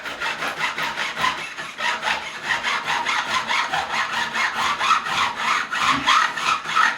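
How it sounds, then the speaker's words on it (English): A fret leveling file rasps by hand across the fret ends of a Korean-made Fender Light Ash Telecaster during a refret, beveling the edges in steady, rhythmic back-and-forth strokes, close and continuous. "this is a fret leveling file"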